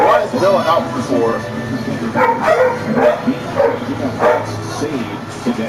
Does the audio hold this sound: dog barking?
yes